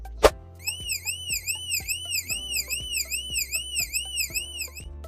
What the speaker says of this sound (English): If the temperature exceeds 27 degrees Celsius, the buzzer will produce an alarm sound.